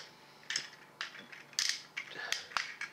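A Transformers Combiner Wars Voyager Motormaster toy's plastic legs ratcheting outward to the side, a quiet series of tight clicking ratchet steps, close and distinct.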